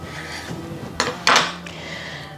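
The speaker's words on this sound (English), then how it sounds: "And I'm going to cut the tofu." A knife slices through a block of tofu on a board, giving two brief close knocks and scrapes against a quiet room background, with no talking.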